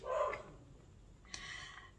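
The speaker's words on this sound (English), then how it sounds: "Sorry if you can hear my dog." A household dog barks in short bursts at the start and again near the end, moderately close but not loud, with indoor room noise between the barks.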